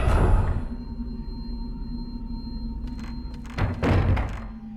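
A door unlocking in the horror video game Fatal Frame 3: a low thunk opens the clip over a steady eerie hum, then a few sharp clicks and clunks arrive near the end, fairly close and without voices.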